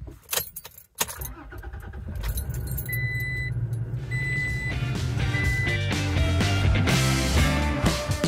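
Keys jangle and a door thumps, then a Toyota Tacoma pickup truck's engine runs steadily as the truck drives off, with a few faint electronic chimes over the road noise.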